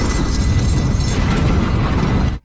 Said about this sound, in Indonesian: ledakan tersebut menewaskan seorang Inspektur Wong saat itu juga